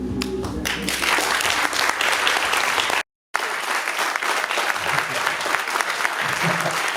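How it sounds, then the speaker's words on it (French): Audience applause at the launch of a festival, loud sustained clapping from a large crowd with a brief gap of silence midway, voices faintly mixed in. "n'applaudissez pas trop longtemps parce qu'on a un temps limité"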